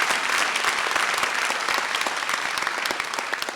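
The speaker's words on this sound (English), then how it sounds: "Go ahead, that deserves an applause." An audience at the Art of Conversation 2018 talk at Cab Calloway School of the Arts bursts into applause, a full, steady wash of many hands clapping that fades slightly toward the end.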